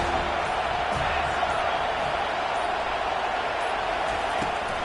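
A stadium crowd in the NCAA 25 football video game roars steadily, a dense, loud wash of cheering that holds throughout.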